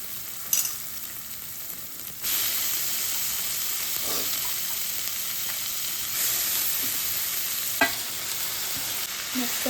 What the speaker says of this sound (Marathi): मस्त हलवून घेऊया।